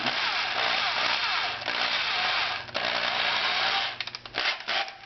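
A power drill fitted with a 5/64 bit whirs steadily while drilling pilot holes into wood, then cuts out into short stuttering bursts near the end.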